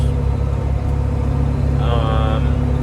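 A truck rumbles past with a steady low engine drone and road noise, loud and close throughout, with a brief higher tonal whine partway through.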